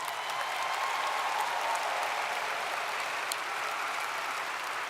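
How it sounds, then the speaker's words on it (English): Sustained, dense applause from a large college crowd, loud and even throughout without a break. "give yourself a round of applause, would you please?"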